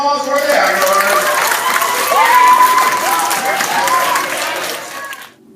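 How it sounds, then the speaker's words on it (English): Children in an elementary school audience applaud and cheer for student actors at an author visit, a steady, dense wash of clapping from a crowd that holds throughout, then fades at the very end. "One more round of applause for the actors."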